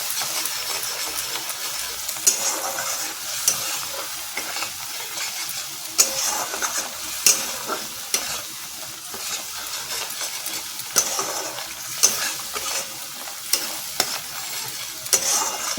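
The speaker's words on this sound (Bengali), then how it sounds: "এই যে মশলার সাথে পুরো সব কিছুকে ভালো করে কষিয়ে নেব।" Fried vegetables are stirred into a ground green chilli, ginger, tomato and garam masala paste for vegetable biryani, with a strong sizzle and rhythmic spatula scraping and knocks in the pan throughout, close and continuous, no talk.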